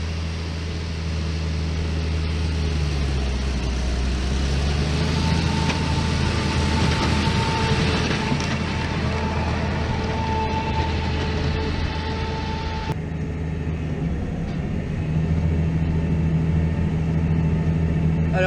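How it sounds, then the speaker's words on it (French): Steady low drone of a Deutz 6180 Agrotron tractor engine running at around 1600 rpm from inside the cab while working a field with a 5 m Kuhn implement, constant and even with a slight shift in tone partway through. "Allez, venez avec moi dans le tracteur."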